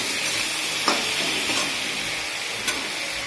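Food frying in a pan with sugar added before water goes in: a loud, steady, close hiss of sizzling oil, with a couple of faint knocks from stirring.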